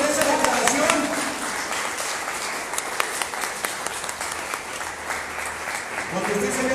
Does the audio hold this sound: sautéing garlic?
no